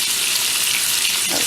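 Bacon frying in a pan, a dense steady hiss and crackle, loud and close, filling the whole moment without talk.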